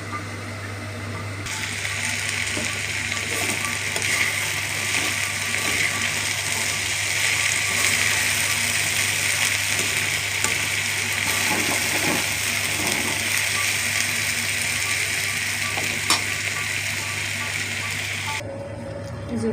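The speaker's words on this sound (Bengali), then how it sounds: "আর এখন হাঁড়ি পাতিল মাজুম।" Pots and pans being scrubbed and washed at night, a steady rush of running water with scattered knocks and scraping underneath, close and fairly loud, holding for most of the stretch before cutting off near the end.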